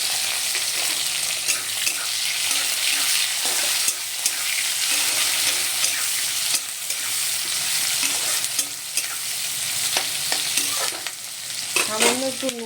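Chopped onions sizzle in a pan with hot oil for a meat dish, a steady loud frying hiss broken by repeated scrapes and stirs of a spoon, with no talking.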